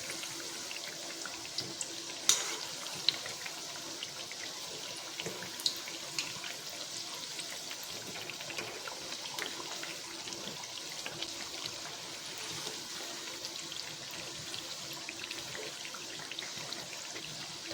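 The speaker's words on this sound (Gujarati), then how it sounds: "તમારે અહીંયા મીડિયમ ગેસ ઉપર મઠડીને તળવાની છે" Sweet mathri frying in oil over a medium gas flame gives a steady, moderate sizzling hiss with scattered small pops and crackles. No one speaks.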